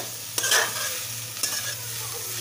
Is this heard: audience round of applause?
no